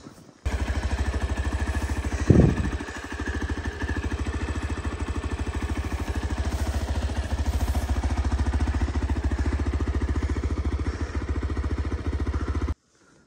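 A motorcycle engine runs steadily, close by, on a mountain road, with a constant low throb and one brief knock early on.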